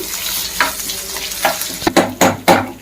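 Sliced onions and green chillies fry in a pan for methi chaman curry, a steady sizzle broken by several loud scraping stirs toward the end, with no speech.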